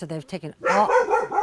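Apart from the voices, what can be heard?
dog barking at someone arriving at the ranch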